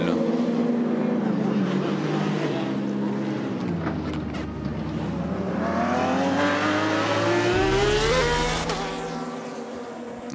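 Race cars, including a Porsche in the GTE class, circulate at the 2020 24 Hours of Le Mans. A loud engine drones and shifts pitch while passing and accelerating, with a commentator's voice running over it.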